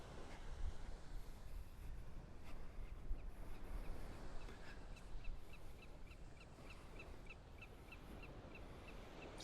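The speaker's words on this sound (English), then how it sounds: "Sounds like a willet bird." A willet repeats a series of short, evenly spaced calls at moderate distance on a Florida beach, set against steady wind and low rumbling background noise.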